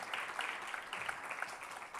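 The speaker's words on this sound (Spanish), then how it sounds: "Denle un aplauso al Señor en esta preciosa noche" Soft applause from a church congregation during an evening worship service, quiet scattered clapping that sounds somewhat distant and low in level.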